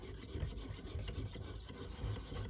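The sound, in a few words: Bubba Blades fillet knife sharpened on 600 grit KME stone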